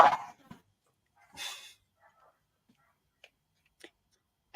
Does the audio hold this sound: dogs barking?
yes